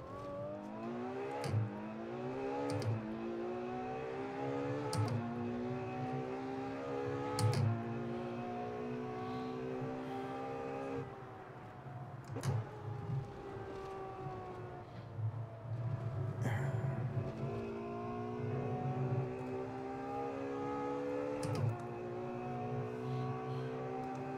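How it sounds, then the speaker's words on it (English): A Ferrari racing car engine in Assetto Corsa revs up through rising gears again and again, steady and continuous, with sharp clicks at each shift. "Ooh, that engine sound though."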